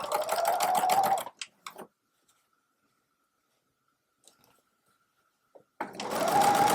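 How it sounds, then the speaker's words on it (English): A sewing machine whirs in rapid bursts at the start and end, with a long quiet stretch and a few small clicks between. "You can do this by hand if you choose. I generally do it by sewing machine."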